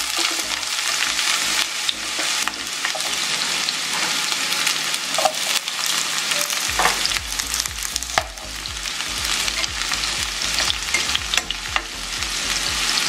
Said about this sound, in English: In a pan, melt the coconut oil like I have done here, and then you're going to add the onion and the garlic.